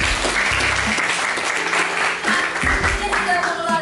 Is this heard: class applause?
yes